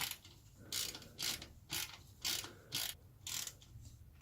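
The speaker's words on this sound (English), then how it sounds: "we'll get the ratchet and just put that back in" Ratchet wrench tightening the oil sump plug on a Vauxhall Astra MK5, six evenly spaced ratcheting strokes of clicking pawl, close and crisp with brief gaps between pulls.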